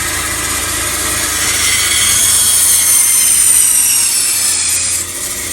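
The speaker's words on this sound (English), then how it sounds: "Not a good idea to use the bandsaw as a workbench" A bandsaw cuts through wood for a 4-inch duck decoy body, giving a steady, loud whining hiss that holds for about five seconds before easing off slightly near the end.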